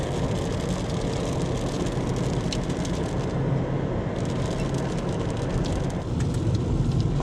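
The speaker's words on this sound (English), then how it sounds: "But here comes the rain again." Steady broadband hiss of rain falling while driving, continuous and fairly loud throughout, with a low rumble of the vehicle underneath.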